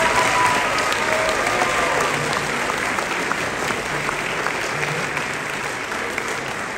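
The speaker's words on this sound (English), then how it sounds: "So let's give them a nice round of applause." A concert audience at a high school wind ensemble performance gives loud, sustained applause for the band directors, a thick, even roar of clapping with no talking.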